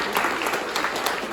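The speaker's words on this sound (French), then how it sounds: "là je veux vraiment qu'on les applaudisse parce qu'ils s'investissent tout au long de l'année" An audience at a 2024 inauguration event in Saint-André-en-Livre applauds volunteers, a dense, steady burst of many hands clapping close and loud.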